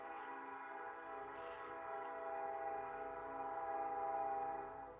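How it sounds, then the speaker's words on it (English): A far-off train horn holds one steady, faint chord for about five seconds, swelling slightly toward the end, with no voices over it. "Hello, train."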